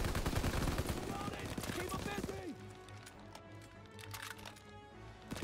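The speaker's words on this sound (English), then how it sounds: "Oh, oh yeah, we shooting at his dead body." Rapid bursts of gunfire in the World War II shooter game Call of Duty: WWII, dense and loud at first, then thinning to scattered distant shots under a talking voice.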